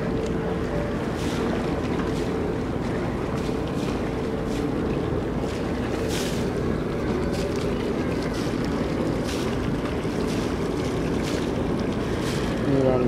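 Continuous rushing water with wind buffeting the microphone and a rocking boat, a loud and steady wash for the whole stretch.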